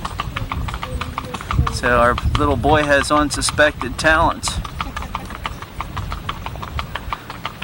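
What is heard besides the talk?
horse hooves clip-clopping, pulling an Amish-built carriage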